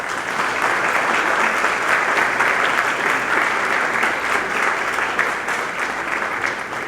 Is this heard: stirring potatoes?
no